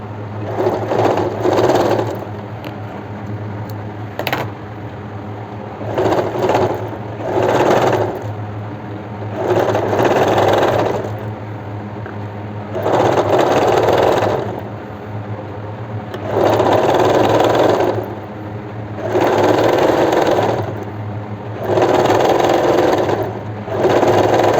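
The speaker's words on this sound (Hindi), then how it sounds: "मुझे थोड़ा दिख रहा है इसलिए मैं सीधी साइड से ही लगा लेती हूँ सिलाई।" Sewing machine stitching a farshi salwar, running in repeated bursts of a second or two separated by short pauses, close and loud over a low steady hum, with no talk.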